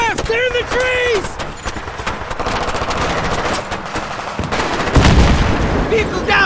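Battlefield 3 firefight during an ambush, with sustained rapid machine-gun fire and scattered shots, a heavy boom near the end, and shouting voices and a radio-style voice over the gunfire.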